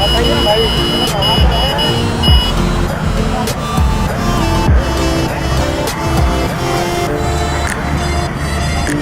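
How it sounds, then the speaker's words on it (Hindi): Dense road traffic in Ayodhya: engines and vehicle noise form a continuous loud wash, with scattered horn beeps cutting through. "बहुत ट्रैफिक हो गया यार।"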